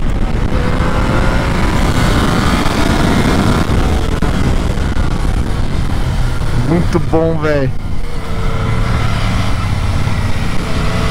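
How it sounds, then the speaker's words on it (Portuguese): A Yamaha Tracer 900 GT motorcycle engine rumbles loudly and steadily throughout at the Interlagos circuit, with a brief revving rise in pitch partway through, while someone speaks briefly over it. "E a Tracer 900 é uma moto que fala alto"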